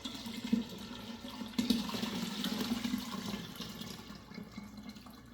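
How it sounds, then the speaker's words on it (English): Tea is poured through a strainer into a vessel of water for kombucha, a soft continuous splashing pour with a brief louder surge partway through, fairly quiet and close. "I'm ready to put my tea into this water"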